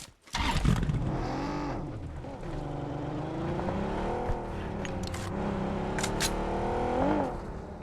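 Car engine in a video game, with a steady revving drone that rises and falls in pitch as the vehicle drives, loud and continuous throughout, with occasional clatter and brief bumps.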